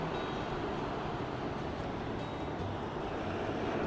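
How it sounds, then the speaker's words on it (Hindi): Sea waves wash continuously onto a beach on the Diu coast of Saurashtra, a steady broadband roar of surf mixed with wind buffeting the microphone, with no talking. "आप लोग फोकस करो आगे की तरफ, समुद्र की तरफ, बढ़ती हुई लहरों की तरफ।"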